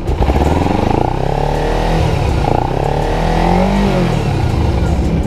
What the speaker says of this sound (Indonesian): otomatis suara mesinnya itu lebih kerasa di bagian karburator